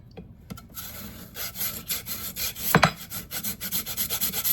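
A frozen peach rubbed steadily across a grater for yogurt topping, giving a close, rhythmic rasping scrape with repeated strokes and no talking.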